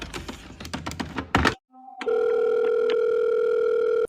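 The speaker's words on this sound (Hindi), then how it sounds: "बादशाह सलामत का फोन काट दिया।" A few quick clicks and a clatter, a moment of silence, then a steady, loud telephone dial tone hums on unbroken.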